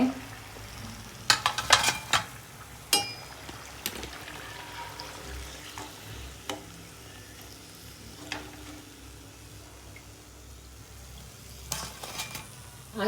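Peanut-filled karjikai pastries fry in hot oil with a steady, close sizzle, broken by a few sharper crackles and pops and light clinks of utensils against the pan.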